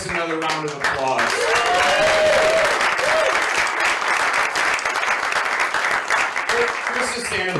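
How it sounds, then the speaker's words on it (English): A comedy club crowd bursts into sustained applause for a stand-up comedian, dense clapping rising after a brief spoken line and holding steady to the end, with a voice briefly audible at the edges. "Give Chris another round of applause."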